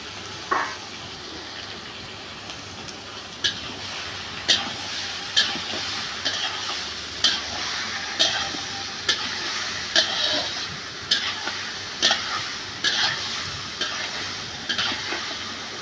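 Pieces of salted chicken fry in a pan with a steady sizzle, while a utensil stirs them and scrapes or knocks against the pan in regular close clacks about once a second.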